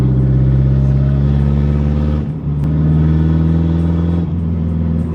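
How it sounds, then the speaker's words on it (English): A turbocharged K20-engined Honda Civic drones loudly and steadily under load, its engine note holding even with two brief dips, and no clear separate turbo whine stands out. "I can hear the turbo spooling."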